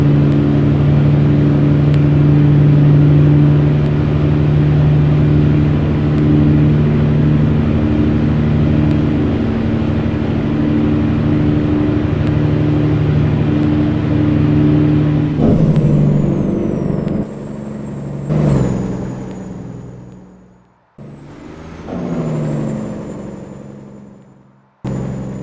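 A truck engine drones steadily in American Truck Simulator while hauling chlorine, a loud continuous low hum with a high whine, then shifting revs and brief cuts near the end.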